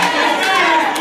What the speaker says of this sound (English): The crowd getting anxious.